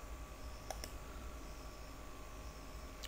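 Computer mouse clicks, a couple of faint close clicks early on and one more at the very end over a quiet hum.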